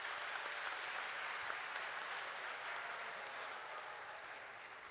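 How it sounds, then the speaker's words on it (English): A school audience at a morning prayer quiz applauds Team Black; steady, fairly soft continuous clapping from a crowd, slowly tapering without any talk. "You may now clap for Team Black"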